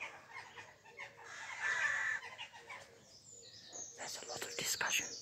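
Rooks calling at 5am in a Cheshire village, harsh cawing and chatter from several birds at moderate distance, mixed with soft talk nearby.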